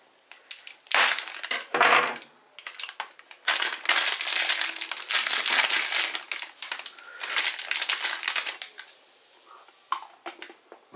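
Bumper Jumper snack packet being torn open and handled, with loud crinkling and crushing plastic wrapper sounds in repeated bursts across the whole clip, close up and no talking.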